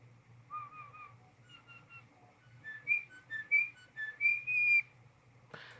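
A bird whistles a series of clear, pitched notes imitating robot beeps, with a beeping, electronic quality, rising and falling in short bursts, ending with a sharp noise over a low steady hum.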